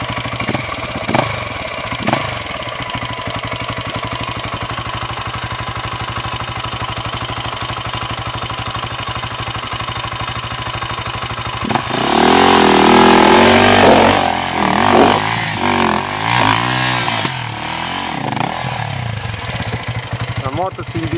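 Enduro motorcycle climbing a step on a mountain mule track: a steady idle and throttle blips, then a loud labored rev surge with clattering, near and rough, while people talk.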